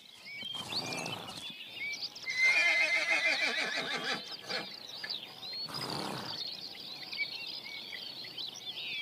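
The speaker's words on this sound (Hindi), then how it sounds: "आज डेन्यूब डेल्टा के घोड़े यूरोप में घोड़ों की कुछ बची खुची प्रजातियों में से एक हैं।" Wild horses of the Danube Delta forest in Europe whinny and neigh loudly and close by, with a series of long, shrill, wavering calls and short snorts one after another.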